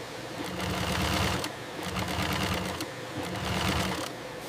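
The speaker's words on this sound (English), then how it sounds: "Industrial sewing begins, joining layers of fireworker special protective uniform" An industrial sewing machine stitches layers of a firefighter's protective jacket together, running in loud continuous bursts of rapid mechanical chatter with brief slowdowns between runs.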